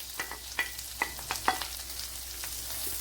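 Carrots with purple and white cabbage tossed and stir-fried in a pan for millet noodles, giving a soft ongoing sizzle broken by several sharp scraping clinks of the utensil against the pan, with no talking.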